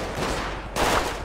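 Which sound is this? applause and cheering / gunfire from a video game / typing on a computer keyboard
gunfire from a video game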